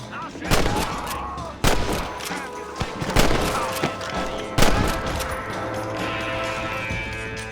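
Gunshots ring out in the Western video game Red Dead Redemption: several loud, sharp cracks fired close by at irregular intervals, each trailing off before the next.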